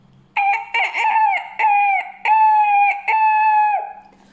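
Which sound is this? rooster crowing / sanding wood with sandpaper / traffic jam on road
rooster crowing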